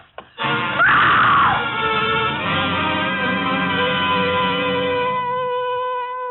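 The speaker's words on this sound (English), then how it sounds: "It was a good loud scream." A woman in a 1950 radio drama lets out one long, loud, sustained scream that holds steady for several seconds before tapering off.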